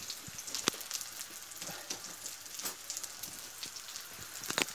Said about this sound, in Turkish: Kabak çiçeği kızartıyoruz arkadaşlar şimdi de.